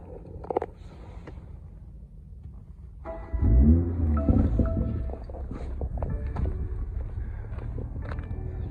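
A 2021 BMW M340i rated at 382 hp cranks and fires up, settling into a fairly quiet, steady idle with a low rumble after a brief starter whir.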